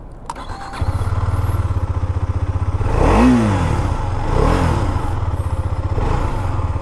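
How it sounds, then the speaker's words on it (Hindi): A Husqvarna Svartpilen 250 motorcycle cranks and fires up, settling into a close, steady thumping idle, then blips the throttle twice with rising and falling revs before returning to a loping idle. "So let's just hear the exhaust note first."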